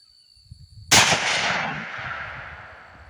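A single loud stalking rifle shot at a shooting range cracks sharply after a quiet moment, its report decaying over a couple of seconds.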